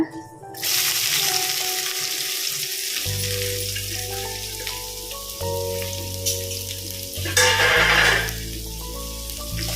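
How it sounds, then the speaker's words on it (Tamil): Onions sauté in hot oil with a broken dried red chilli in a pan for paneer masala gravy, giving a loud, steady sizzle close up, while a tonal hum drones underneath and a sharper hiss swells briefly near the end. "வெங்காயத்தை சேர்த்து வெங்காயம் நல்லா வதங்கணுங்க"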